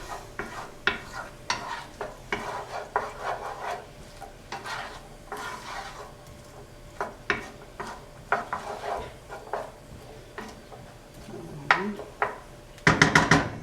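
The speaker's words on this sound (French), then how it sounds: "On va laisser un peu fricoter les oignons" Onions frying in a pan while being stirred, with a steady soft sizzle under repeated scraping and clinking of a utensil against the pan, plus a burst of sharper clatter near the end; no talk.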